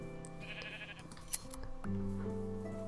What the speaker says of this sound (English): We've got tons of sheep out here.